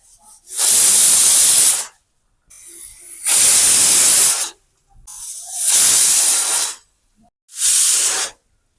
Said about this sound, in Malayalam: ഇതൊരു എട്ട് തൊട്ട് പത്ത് വിസിൽ വരെ നമ്മൾ വെയിറ്റ് ചെയ്യണം